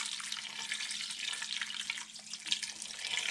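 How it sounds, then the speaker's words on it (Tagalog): Water pours and splashes steadily into a pot over a pork leg for crispy pata, a close, continuous bubbling gush with slight fluctuations, no voices. "pag nilagay natin siya ng tubig, kailangan nakalubog po siya"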